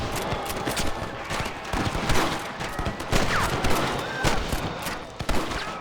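Sustained gunfire from the Red Dead Redemption video game, run on a Switch emulator: dense, rapid volleys of shots crackling continuously throughout, with overlapping reports and in-game voices shouting amid the battle.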